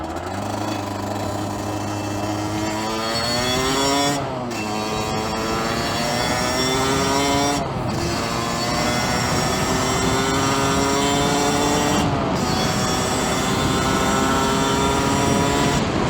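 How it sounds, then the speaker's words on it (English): A large tractor pulling a fertilizer spreader roars past a small motorcycle on the road, with a loud droning engine that rises and falls in pitch as it goes by. The bike's engine drones underneath, and no one speaks. "I was not expecting to see a massive, like, tractor fertilizer thing around there"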